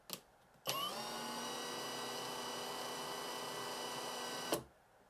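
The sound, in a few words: Villager VLP 5320 impact driver running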